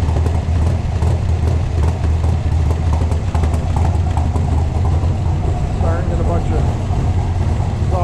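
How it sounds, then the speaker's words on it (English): A 1967 Chevrolet Corvette's 427 V8 (435 hp) idles with a deep, steady rumble throughout, someone talking faintly over it. "The engine sounds fantastic once it gets warmed up."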